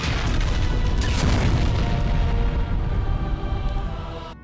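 A Star Wars space battle fills the scene with dense, continuous booming explosions and rapid weapon fire, loud and overlapping throughout before tapering slightly at the end.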